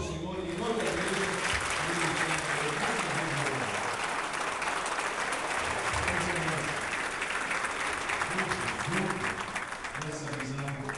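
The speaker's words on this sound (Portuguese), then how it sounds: "Um aplauso ao Senhor e em nome da igreja." A church congregation applauds after a baptism: loud continuous clapping fills the room while a voice speaks over it throughout.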